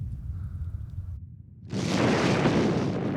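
Nuclear test explosion in archival documentary footage: a quiet low rumble, a brief near-silent gap, then a sudden loud, sustained roaring blast that fills the rest of the clip.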